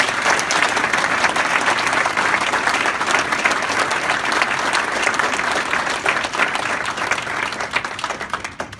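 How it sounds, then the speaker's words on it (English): A large crowd at an awards ceremony in Detroit Lions' stadium applauds loudly and continuously, a dense wash of clapping that holds steady throughout and tapers slightly at the very end. "Please join me in giving a round of applause"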